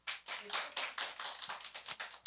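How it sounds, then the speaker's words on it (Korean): Members of a church congregation clap to encourage the people beside them, a steady run of distinct hand claps at a quick rhythm, moderately loud and close, with no talk over it. "옆사람 옆에 격려의 박수"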